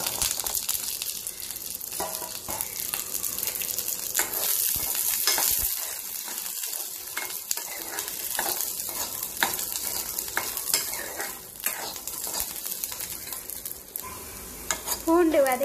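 Garlic sizzles in hot sesame oil in a kadai while a utensil scrapes and stirs the pan with intermittent clatters, close up and fairly loud.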